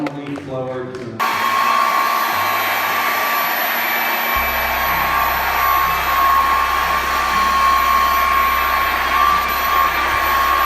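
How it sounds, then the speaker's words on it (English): Two leaf blowers pass a ball back and forth at a children's science open day, a loud steady whooshing roar that starts abruptly and holds continuously throughout, with a faint low hum underneath. "They traded the ball from one leaf blower to another."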